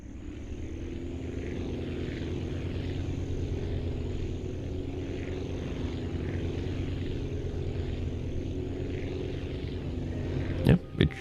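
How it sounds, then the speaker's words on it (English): A propeller plane engine drones steadily in the Aviassembly game, a constant low hum that lasts throughout with a couple of sharp clicks at the end. "Sounds like a plane, flies like a plane, looks like a red bee."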